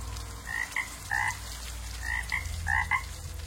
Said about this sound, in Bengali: দূরে কোথাও একটা ব্যাঙ ডেকে উঠল।